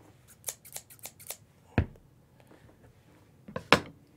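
Scissors snipping close up while preparing an item to sell on eBay: a quick run of five or six crisp cuts, then a pause before a few louder, sharper snips.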